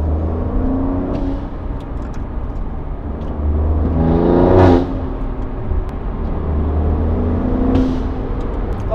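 Alfa Romeo Giulia Quadrifoglio fitted with aftermarket blow-off valves, its engine rumbling steadily and rising into a rev that peaks near the middle, followed by a short whooshing burst as the throttle drops, then settling back to a low idle.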